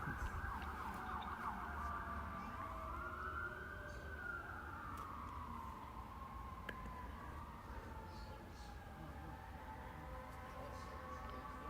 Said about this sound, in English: Sounds like the sirens are heading north.